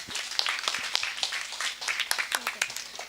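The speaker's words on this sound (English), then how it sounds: "We can all clap." Conference audience at a hospital quality event clapping together, a dense patter of claps filling the room at moderate level with some voices mixed in.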